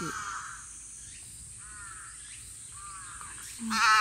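A crow caws repeatedly at dusk outside a historic church on Fukue Island in the Goto Islands, a series of hoarse calls at moderate distance over quiet outdoor ambience.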